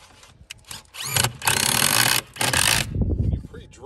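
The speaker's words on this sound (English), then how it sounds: "When you pre-drill, you'll be able to countersink the screw a lot better" A drill bores into exterior wood window trim on a mobile home, a short whirring grind in bursts with a sustained stretch in the middle, close and fairly loud.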